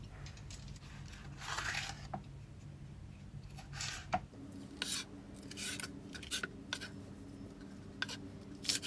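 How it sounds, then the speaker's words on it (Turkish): A knife slicing seeded green peppers into long strips and then chopping them on a board, with quiet, irregular cuts and sharp taps close by and no talking. "Onların da çekirdeklerini alıp şeritler halinde önce uzunlamasına kesip sonrasında da doğrayalım."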